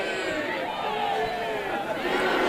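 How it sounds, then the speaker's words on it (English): Large crowd at Auburn basketball's homecoming after reaching the Final Four, a steady roar of many voices with a rhythmic chanted tone running through it, sustained and fairly loud throughout. "And chants erupting around the crowd"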